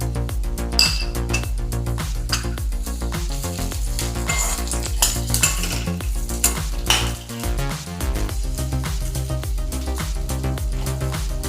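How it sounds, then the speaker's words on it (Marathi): Mixed vegetables and peas sauté in a pan for sorghum pulao, a steady loud sizzle running throughout with repeated clinks and scrapes of a spoon stirring against the metal. "ह्या चांगल्या परतून घेऊ आणि आता आपण वाटाणे टाकूया."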